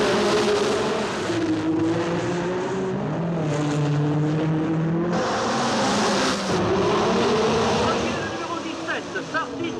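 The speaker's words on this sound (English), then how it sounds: "Now it's Sarti in the red Ferrari, number 17, leading, past the Hotel de Paris and into the Casino Square" 1960s racing cars roar through the Monaco Grand Prix street circuit past the Hotel de Paris into Casino Square, a red Ferrari leading, engines loud and sustained with rising and falling pitch as cars pass, under a commentator's voice.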